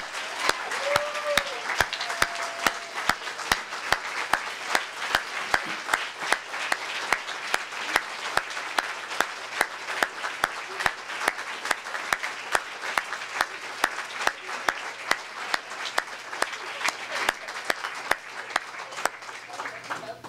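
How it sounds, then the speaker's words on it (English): An audience at a school district retirement celebration applauds its honorees, a dense, steady round of clapping that carries on for about twenty seconds without letting up. "if we could have one last round of applause for our incredible honorees tonight."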